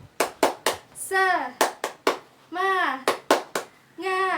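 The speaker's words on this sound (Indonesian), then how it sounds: "kita tepuk semangat sekali lagi yuk" Primary school children in a Grade 4 classroom perform the tepuk semangat clapping routine, sharp rhythmic hand claps in quick groups alternating with loud chanted shouts from the class, close and clear.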